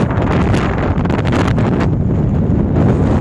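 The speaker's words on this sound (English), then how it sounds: "It's bloody windy as well." Gale-force wind off a rough sea at Newbiggin-by-the-Sea roars and buffets the microphone continuously, a heavy rumbling blast with gusty rustling on top, close and loud throughout.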